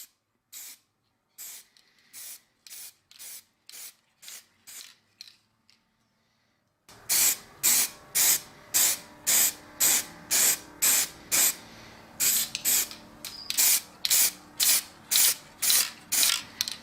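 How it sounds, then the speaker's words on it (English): Aerosol clear coat being sprayed onto a restored chain axe: a string of short, sharp hissing bursts in a steady rhythm, quieter and sparser at first, then after a brief pause many loud, close bursts in quick succession. "I'm going to put a clear coat over the top of it."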